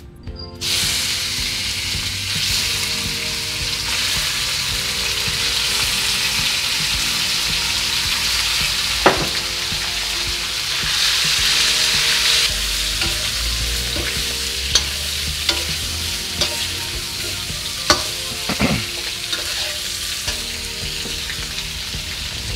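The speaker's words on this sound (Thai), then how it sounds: "เราตั้งไฟแล้วก็ใส่น้ำมัน ไม่ต้องเยอะมากจากนั้นเดี๋ยวเราจะใส่หมูลงไป" Pork belly frying in a modest amount of oil for Thai-style dry five-spice pork stew, a steady close sizzle throughout with occasional sharp scrapes and clicks of stirring utensils, no talking.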